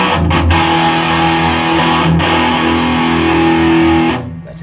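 A bass played through a distortion effect in a Boss FB-2 Feedbacker/Booster pedal review, giving loud, thick sustained overdriven notes with a few picked attacks before ringing out and fading near the end.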